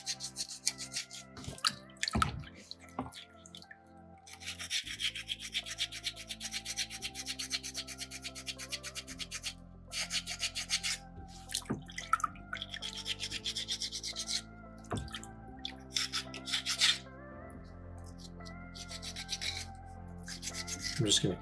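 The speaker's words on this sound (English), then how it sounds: "Constant contact, constant pressure, just working that sandpaper into the stone." Sandpaper rubs against a soapstone bison carving with constant pressure, giving a continuous scratchy rasp in repeated strokes, close and fairly quiet, with a few sharp taps scattered through.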